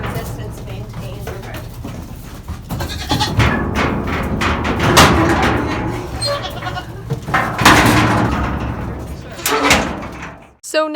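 Kiko goats bleat repeatedly at close range on a farm, loud overlapping calls with a steady low hum underneath and a thud near the end.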